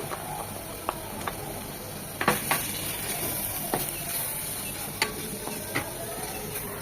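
Ginger-garlic paste frying in oil with chilli paste, turmeric and cumin powder, a continuous close sizzle with scattered clicks and taps of a spoon stirring the pan.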